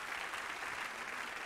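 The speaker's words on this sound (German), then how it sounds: "Gib den Herrn einen Applaus." A congregation applauds steadily as a dense, even wash of clapping hands, fairly soft and distant, with no voices over it.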